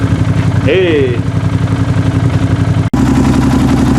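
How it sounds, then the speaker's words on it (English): A loud motorcycle exhaust idles with a steady, throbbing low rumble throughout, while a person speaks briefly over it. "My God, this exhaust is so loud."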